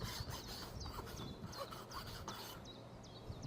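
A metal file rasps across a lock in quiet, steady repeated strokes, with faint birdsong chirping in the background.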